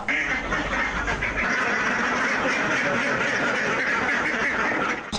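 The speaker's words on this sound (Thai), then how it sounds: "ได้ยินเสียงเป็ดใช่ไหม" A flock of ducks quacking continuously in a noisy outdoor setting, with dense overlapping calls that stay loud throughout.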